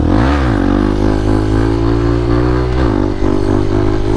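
A Honda CRF motorcycle ridden hard on a public road screams at high revs close by, the engine note dipping and climbing again as it shifts up through the gears.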